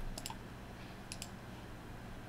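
Two quick pairs of mouse clicks during an image-editing tutorial, sharp and close, separated by about a second, over a steady low hum with no talking.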